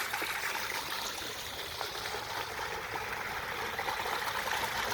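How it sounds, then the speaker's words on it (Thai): Strongly flowing water at the top tier of a waterfall at a learning centre in Sawang Wirawong, Ubon Ratchathani, a steady broadband rush and splash heard close and alone. "น้ำรู้สึกไหลแรงครับ น้ำตกของเรานะครับ"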